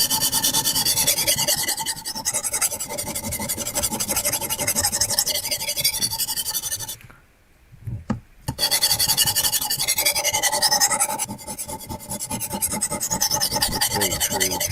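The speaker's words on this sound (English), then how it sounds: "there's a whole art behind sharpening knives" A knife is sharpened with continuous harsh rasping and scraping strokes, loud and close, pausing briefly in the middle before resuming.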